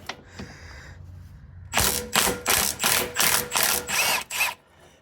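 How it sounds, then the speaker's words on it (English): A ratchet loosens a bolt on a car axle, giving about eight loud, rhythmic clicking bursts in quick succession after a quieter start. "Oh, the bolt came out and didn't break."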